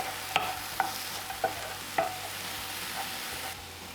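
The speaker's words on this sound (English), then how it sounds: "just going to let this saute for a few minutes" Bell peppers, onions and garlic sautéing in a pan with a steady soft sizzle, broken by four or five light spatula taps and stirs.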